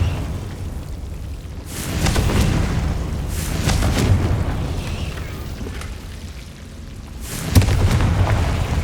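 A Confringo spell blast in Hogwarts Legacy gives a deep, rumbling boom that swells and fades, followed by more heavy explosive surges in a dark misty cavern.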